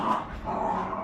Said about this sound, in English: You have to excuse the dogs are going mad.